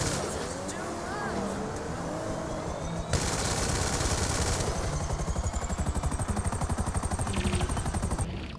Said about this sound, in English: This will instantly spawn a helicopter in front of you.